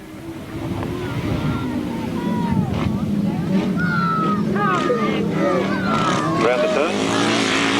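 Grasstrack sidecar motorcycles race through a turn at the 1992 Scintillator 600, a steady engine roar with rising and falling whines as machines pass, while a commentator talks over the noise throughout.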